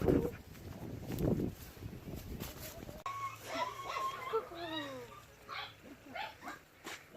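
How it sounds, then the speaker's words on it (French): Puppies in Viñales give soft yips, whimpers and high whining calls at close range, scattered across several seconds over background noise, with a brief burst of louder rustling and voices at the start. "Salut mes bébés chiens."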